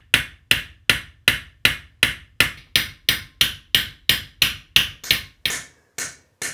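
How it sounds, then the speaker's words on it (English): A hammer taps steadily on a European scythe blade being peened, about sixteen sharp, ringing metallic strikes in an even rhythm, each with a short decay, close and clear with no voices. "you draw the blade through about a 16th of an inch for each tap of the hammer. And you listen for that solid sound"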